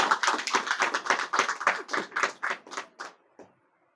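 A quick run of hand claps, about a dozen close, crisp slaps in a fast steady rhythm, slowing and fading out at the end.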